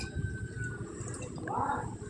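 Water pours into a pan of washed goat mutton as it is set to boil with salt, a steady splashing wash that swells toward the end of the clip.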